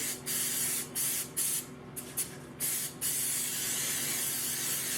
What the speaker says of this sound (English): I'm going to come back over it with some cooking spray.